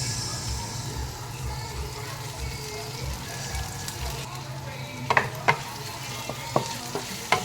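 Tofu sisig sizzles steadily in a hot pan while a utensil stirs it, with a few sharp scraping knocks against the pan toward the end, close and fairly loud.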